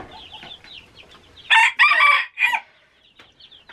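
Young chicks on a homestead peep in soft, high chirps, then a louder cluster of calls breaks out for about a second before settling back to faint peeping.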